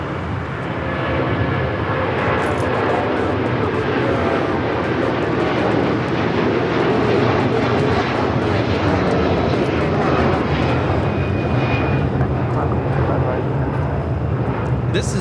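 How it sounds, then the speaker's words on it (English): A Hawaiian Airlines Airbus A330-200 bound for Honolulu takes off at Los Angeles airport, a loud, sustained wide-band engine roar that holds nearly constant throughout, with a thin tonal whine drifting above it. "This is Hawaiian Airlines Flight 3 taking off to Honolulu on the A330-200."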